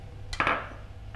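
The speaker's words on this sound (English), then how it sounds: "I'm going to pop them all into a pan and put these over a heat to melt." Butter, sugar and golden syrup drop into a pan for flapjacks, a single brief clatter and soft thud of ingredients landing, close and moderately loud in a quiet kitchen.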